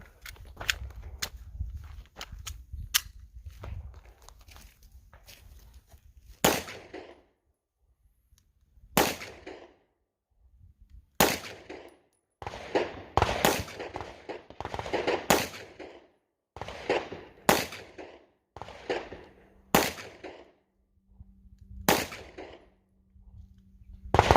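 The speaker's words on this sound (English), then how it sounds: "I'm gonna try to shoot this as clean as possible. 8 rounds, see what we can do." Eight rounds fired at a target on a shooting range, sharp separate reports with irregular pauses, loud and close, following some low shuffling handling noise at the start.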